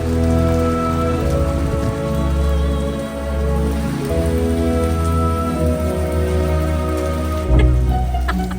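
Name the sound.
heavy rain falling in Porto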